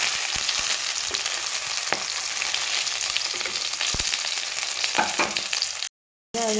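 Pointed gourd (potol) pieces fry in oil in a pan, a dense, loud, steady sizzle with a few sharp clicks of turning, cutting off abruptly into brief silence near the end.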